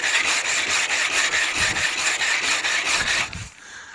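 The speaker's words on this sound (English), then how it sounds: "I'm using 120 on a sanding block" A 120-grit sanding block rubbed back and forth across a Vauxhall Nova SR tailgate, a steady, close, rasping scrub in quick regular strokes that eases off at the end.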